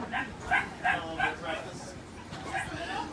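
Rescue dogs at a shelter yelp and whimper in a run of short, high barks, a pause, then more yips, moderately close over a murmur of background noise.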